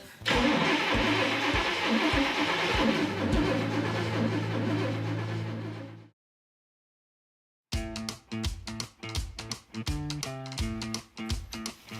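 A Chevy gasser is cranked and fired with a key ignition, its engine loud and broadband for about six seconds, then a pause of silence before a run of sharp, rhythmic bursts as it catches and fires again up close.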